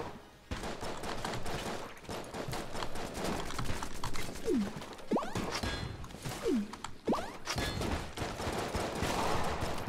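Trash cannon firing in Enter the Gungeon, a rapid barrage of punchy gunshot blasts with mechanical clanks and ratcheting, dense and continuous with a few sliding whooshes and no talk.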